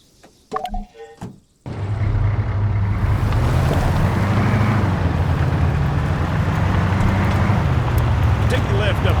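A military vehicle engine driving in Arma 3, a loud, steady rumble with a droning tone that starts abruptly after a brief moment of voices and keeps going evenly.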